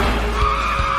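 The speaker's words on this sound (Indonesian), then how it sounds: "mereka berdua justru malah menabrak sebuah truk" A car's tires skid with a sustained, high squeal over a low rumbling engine in a film chase scene, loud and continuous for about a second with no voices.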